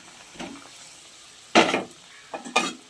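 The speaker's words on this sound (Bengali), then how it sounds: "এবার ডিম দিয়ে দিচ্ছি" Eggs go into a simmering pan of egg curry with a few short bursts of scraping, stirring and soft sizzling, separated by quiet pauses.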